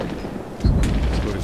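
A grenade detonates in a WWII Ardennes roadblock firefight, a sudden deep boom that cuts through ongoing low rumble and rolls on as a sustained heavy roar, with no speech.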